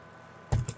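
A few quick keystrokes tap on a computer keyboard, three short close clicks after a moment of quiet room hiss.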